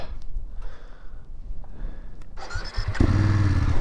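BMW F850GS Adventure, a 2022 model, pulling away: quiet low rumble at first, then the engine note swells around the third second into a loud, steady drone close by with no talk.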